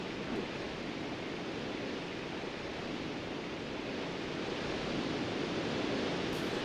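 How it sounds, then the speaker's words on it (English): Waterfall in the video game Tomba! 2: The Evil Swine Return, a steady broadband rushing roar that fills the whole stretch without a break, fairly loud and even with a slight swell near the end. "Oh, look at that waterfall. Just majestic."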